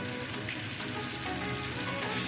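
Chicken frying with soy sauce and tomato paste for jalfrezi, a steady close sizzle with faint stirring underneath, continuous and fairly loud throughout.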